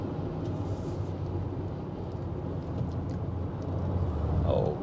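Tata Altroz 2025 car on a hill and highway drive, a continuous low rumble of tyre and road noise heard from inside the cabin, steady with a slight swell near the end.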